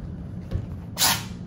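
A single sharp, breathy sneeze bursts out close by after a stretch of quiet room noise.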